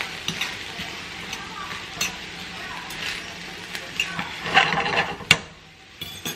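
Corn cooking in butter in a skillet makes a continuous sizzle, punctuated by scraping and clacking from stirring, louder bursts near the end and no clear speech.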